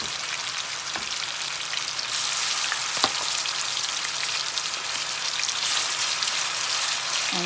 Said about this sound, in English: We're going to fry this really good.